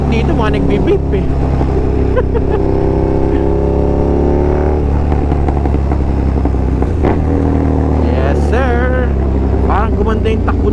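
A KTM Super Duke motorcycle rides through light traffic, its engine droning steadily and loudly close by with shifting revs and occasional clatter, while a rider talks over it.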